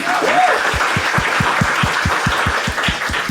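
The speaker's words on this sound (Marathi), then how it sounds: "ठीक आहे एकदा टाळ्या वाजवा दोघांसाठी" A comedy show audience claps in a dense, steady burst of applause with a rhythmic beat, and a brief voice sounds at the start.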